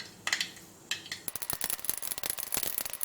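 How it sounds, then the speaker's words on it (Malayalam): Mustard seeds popping in hot oil while tempering for a Kerala minced meat fry, a quick cluster of sharp crackles followed by dense, continuous close popping and spitting. "ഇപ്പോൾ കടുക് പൊട്ടി തുടങ്ങിയിട്ടുണ്ട്."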